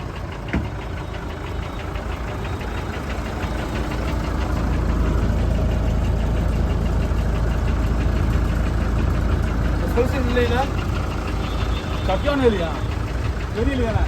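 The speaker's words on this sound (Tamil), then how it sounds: "வண்டி ஸ்டார்ட் பண்ணுங்க" A goods truck engine starts and settles into a steady low idle with a rough knocking rumble, close by, while people talk over it throughout.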